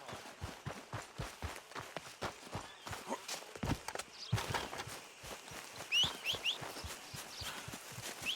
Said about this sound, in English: Come on, horsey.